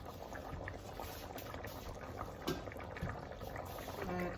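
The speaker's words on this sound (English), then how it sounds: "we need to stir our cooking every now and then" Chicken afritada simmers in a pot as it is stirred, giving a faint, continuous bubbling with a few soft knocks and scrapes scattered throughout.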